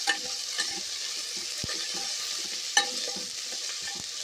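Ginger garlic paste frying and being stirred in a pan for mutton curry, a steady close sizzle with spoon scrapes and a couple of sharper knocks against the pot.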